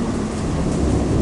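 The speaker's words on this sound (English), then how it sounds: "Crazy storm." Thunder rumbles through a storm right over a city of tall buildings, a continuous loud, deep roll with rain noise filling the background and no one talking.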